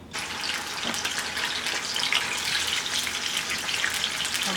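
Water poured onto a plate in a home kitchen while Haitian food is prepared, a steady hissing splash and trickle that runs close and continuous from start to finish, with no talk.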